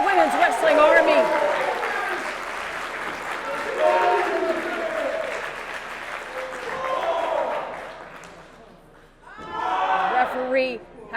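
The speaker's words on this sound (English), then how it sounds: "Crowd on their feet here in Chicago in this main event matchup at Women's Wrestling Army." A crowd at a women's wrestling main event in Chicago cheers and applauds loudly in sustained waves, with a commentator talking over the noise throughout and a brief lull before another burst.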